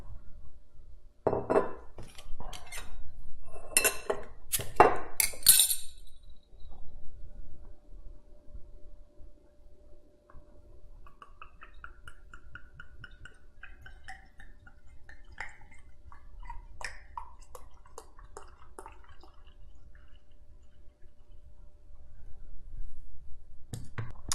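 Jolly Pumpkin Absurd, a rye triple ale, is poured from its bottle into a glass. A few sharp glass clinks come first, followed by a long, steady, soft pour with fizzing. No one speaks.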